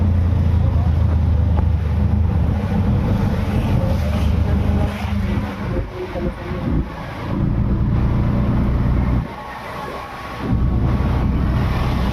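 A motorboat engine drones steadily nearby on floodwater, mixed with wind buffeting the microphone; the noise briefly dips before resuming.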